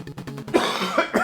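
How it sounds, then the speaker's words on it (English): A single person coughs a few times in quick, harsh bursts, close and fairly loud, with no talking around it. "Made me cough."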